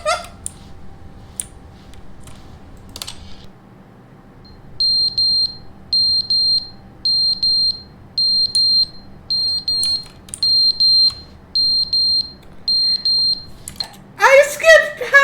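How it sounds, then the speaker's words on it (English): A smoke alarm with a dying battery gives a run of loud, evenly spaced high beeps, about ten in a steady rhythm, with people talking before and after. "The fire alarm battery died"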